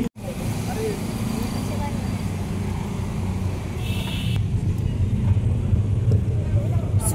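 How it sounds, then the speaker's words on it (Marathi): Dense city road traffic in Pune, with cars and motorbikes rumbling steadily and loudly throughout, a continuous low engine drone with passing vehicles, and voices talking over it. "येथील ट्रॅफिक खूप आहे."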